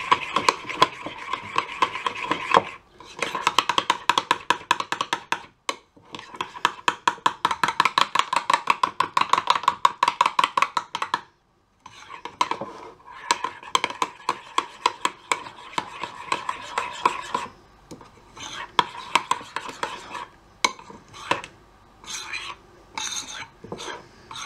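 Overnight oats with apple and custard mixed by hand in a bowl: fast, rhythmic scraping and clicking strokes close up, in bursts with brief pauses, running for about twenty seconds without speech.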